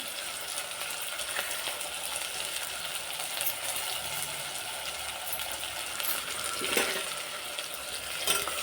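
Carrots, peas and curry leaves sizzle in a hot frying pan while masala rice is being made; a steady, close crackling hiss runs throughout, with faint clinks near the end.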